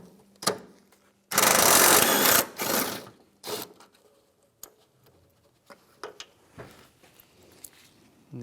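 Removing a 10mm bolt with a wrench from the top panel over the AC condenser of a 2007-2013 Mitsubishi Outlander: a loud, steady mechanical ratcheting burst of about two seconds, then shorter clicks and taps, up close with no talking.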